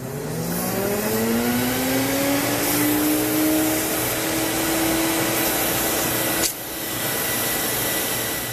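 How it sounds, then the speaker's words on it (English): A Sirena water-filter vacuum cleaner runs steadily, blowing air through its hose to dry it, with a loud continuous motor whine that rises slightly in pitch, briefly dips, then resumes; no voices. "turn the machine on, and this will dry the hose for you."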